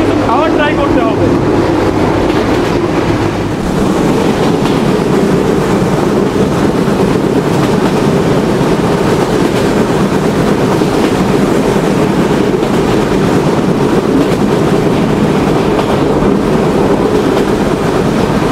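A train runs at high speed toward Chuadanga station late at night, a loud, unbroken rumbling roar with rushing wind noise filling the whole stretch.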